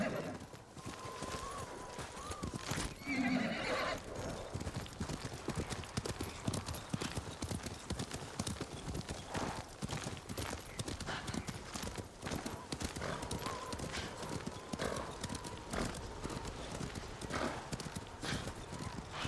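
Steady clip-clopping hooves run throughout in the video game Ghost of Tsushima, with a brief horse whinny early on, set against constant ambient background noise.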